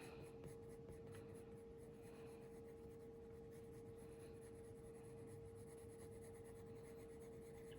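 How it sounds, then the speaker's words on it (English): Graphite pencil shading fabric folds on paper, a steady close scratchy rubbing that runs without pause, alone and with no talk. "So if I draw this in here, and then I use a lighter pencil here"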